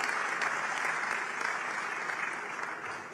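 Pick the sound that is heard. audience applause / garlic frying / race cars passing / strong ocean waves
audience applause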